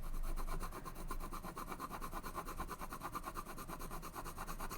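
Graphite pencil glazing across indented drawing paper while shading wolf fur, a steady close scratchy rubbing with a regular back-and-forth stroke rhythm throughout, no voices.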